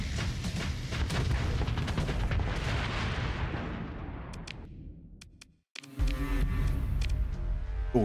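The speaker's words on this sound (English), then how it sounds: "They're firing these torpedoes way too late at this point." Torpedoes launching and detonating in the space combat game Starsector, heard as a rolling wash of booming blasts that swells and fades, then a sudden cutout before more explosive rumbling resumes.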